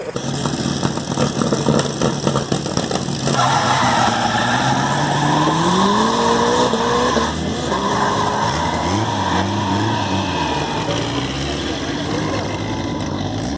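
A turbocharged Chevette drift car launches from a standstill, its engine revving hard and climbing in pitch, loud and close, then holding a high rasping drone with pressure-like whooshes.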